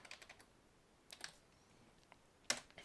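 Keystrokes on a computer keyboard while a console command is entered in CSGO, coming as scattered quiet clicks in short bursts with a sharper tap near the end, against a faint background.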